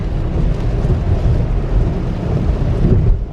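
Rain and road noise fill the cabin of a Tesla driving on a highway at night, a steady, loud, low rumbling wash with slight swells and no voices.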